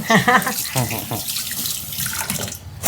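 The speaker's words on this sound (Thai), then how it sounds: "ยายก็จะล้างมาเลยนะคะ" Water runs from a tap into a sink while banana stem is washed for a coconut-milk curry in a home kitchen, a steady splashing stream, close and fairly loud, with brief handling noises.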